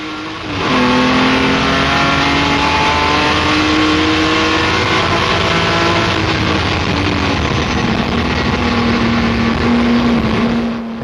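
A Jaguar D-type racing car powers out of a chicane, its engine roaring loud and close in one sustained run, the pitch dipping briefly and then climbing steadily as it accelerates.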